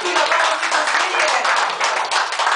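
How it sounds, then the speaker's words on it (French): A room of people claps together in a dense, continuous patter, loud and close, with voices talking over the clapping. "Donc, d'accord, applaudissez"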